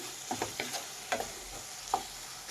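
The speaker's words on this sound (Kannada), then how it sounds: "ಒಂದು ಸ್ವಲ್ಪ ಗರಂ ಮಸಾಲ ಹಾಕ್ತಾಯಿದ್ದೀನಿ. ಮಿಕ್ಸ್ ಮಾಡಿ. ನೋಡಿ, ಮಿಕ್ಸ್ ಮಾಡಿ." Tomato rice with garam masala being stirred in a frying pan over gentle heat, with a quiet sizzle underneath and a handful of soft spoon scrapes spaced irregularly.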